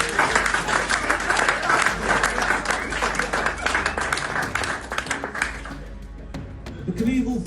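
An evening event audience gives Evel Knievel a round of applause, dense close clapping that holds steady for several seconds before thinning out, with a voice coming in over the tail end.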